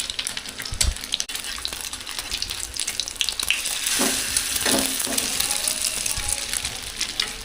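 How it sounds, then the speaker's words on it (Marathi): Egg-coated fish bread frying in a pan at home, a steady broad sizzle with occasional stirring and scraping knocks, fairly close and continuous throughout. "त्यावरती फ्राय करते आता"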